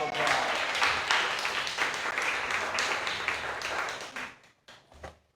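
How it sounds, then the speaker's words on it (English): Applause from an audience at a story night in Bremerton, Washington, dense and sustained for several seconds before thinning to a few scattered claps and fading out. "Round of applause."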